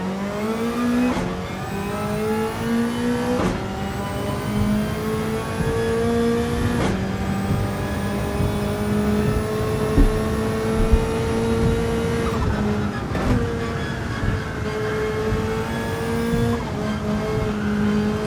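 Race car engine in Gran Turismo 7 held at full throttle, a loud continuous roar climbing in pitch through each gear, with several quick shift breaks and no talk.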